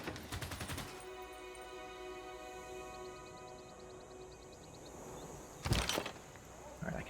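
Units firing weapons in the Civilization VI video game, with a burst of rapid gunfire at the start, a steady mechanical tone through the middle, and a sharp loud blast near the end.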